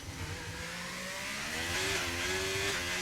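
In the F1 25 racing game at Monaco, a race car engine wails near and loud as it brakes hard into a corner, its pitch stepping through gear changes.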